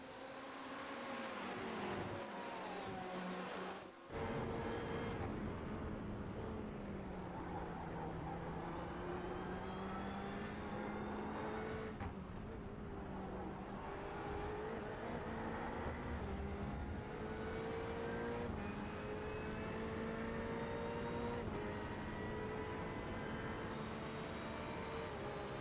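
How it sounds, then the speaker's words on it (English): GTE race cars roar around the Sebring circuit in a sim race, several engines howling together with rising and falling pitch as they accelerate and shift, loud and continuous with a brief dip early on, without talking. "just a whole mess of cars in here"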